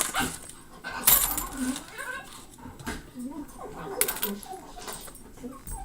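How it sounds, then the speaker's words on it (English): A dog playing with its new toys, giving soft whimpers and small yips along with scattered clinks and rustles, while a person talks over much of it. "The dog got new toys."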